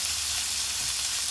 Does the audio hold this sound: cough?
no